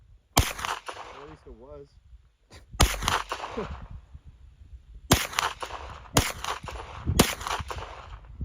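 Sharp, loud reports from a Smith & Wesson M&P FPC 9mm carbine fired outdoors, five well-spaced single shots with a brief voice speaking between the first two.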